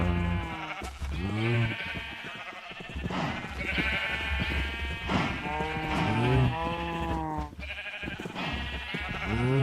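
Many sheep bleat over and over in Minecraft, close and loud, their wavering cries overlapping in a steady chorus across a flock sorted into colour pens, with no talk over them.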